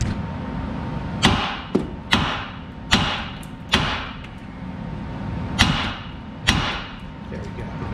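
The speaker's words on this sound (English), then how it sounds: "And then I'm going to come in here with the hammer." A hammer strikes a ball joint on a 2005 Cadillac Escalade during upper control arm and lower ball joint replacement, giving about nine sharp metallic whacks at uneven intervals, close and loud over a steady background.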